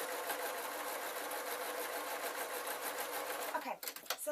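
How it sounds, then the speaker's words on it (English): A sewing machine stitches fabric slowly with the needle down, a close, even mechanical whir running continuously before stopping abruptly, followed by a few faint handling noises. "Get the machine to do it nice and slowly, and I'm going to leave the needle down, and then I can either do my zigzag stitch or any stitch really"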